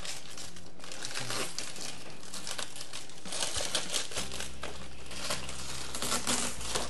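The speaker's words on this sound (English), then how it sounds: "So let's go ahead and unwrap this to see what it looks like without the wrapping." Plastic wrapping being pulled off a new Toro 60V MAX 21-inch Super Recycler electric lawn mower, a steady, loud, close crinkling and rustling that runs the whole time, with a low hum in the background.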